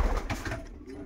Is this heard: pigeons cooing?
yes